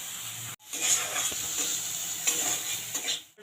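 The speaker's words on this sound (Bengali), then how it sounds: "আলুটাকে আমি ভালো করে ভেজে নেবো" Potatoes and onion fry in a pan with salt and turmeric, a close, continuous sizzle with scraping stir strokes, broken by a brief silent cut near the start.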